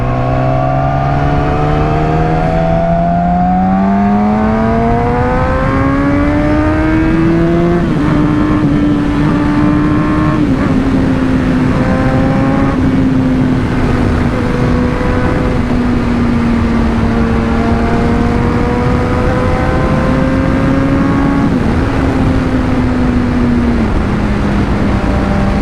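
A Yamaha R6 sport motorcycle is ridden hard, its engine loud and close as it revs and climbs through gears, pitch sweeping up then holding a steady high drone with brief shifts, alongside constant wind rush.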